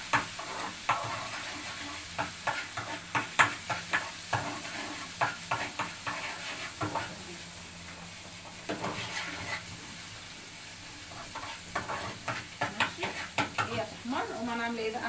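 Garlic frying in a pan on the stove while being stirred, a steady sizzle broken by repeated scraping stirs across the whole stretch, close and fairly loud, with no talk.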